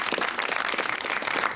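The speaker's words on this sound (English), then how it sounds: "Now, a round of applause for the gentlemen," A short burst of studio audience applause on a 1993 British television show, dense overlapping clapping at steady loudness throughout, close and without speech.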